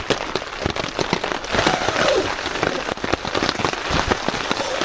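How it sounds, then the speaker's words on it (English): Heavy rain patters densely on a taut tent surface close by, a constant crackling drumming with sharper drops hitting throughout. "it's been quite heavy rain"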